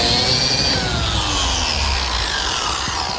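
A power drill bores a half-inch axle hole in wood for a grill cart's wheel assembly, making a loud, steady, high whine that holds for a few seconds in a workshop.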